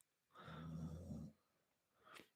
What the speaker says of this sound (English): You hear my dog snoring?